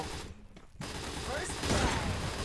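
Free Fire gunfire in a crowded battle-royale match, a dense burst of shots after a brief lull, running steadily over loud overlapping shouting.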